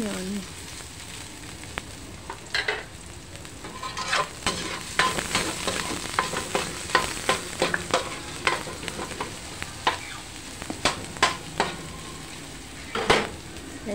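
Onion frying and being stirred in a pan for chicken estofado, with a steady sizzle and repeated sharp scrapes and clinks of the spoon against the pan, close and fairly loud throughout.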